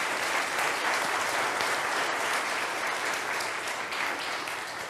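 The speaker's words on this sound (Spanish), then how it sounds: "Si vas a aplaudir, aplaudan, apláudanle a Dios fuerte, como una alabanza." A church congregation applauds during Mass, a dense, even burst of clapping that stays loud and fills the whole short stretch with no speech over it.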